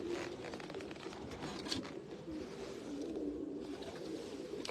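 Breeder pigeons in a loft coo steadily in low, rolling calls, several birds overlapping at moderate distance in a continuous soft murmur.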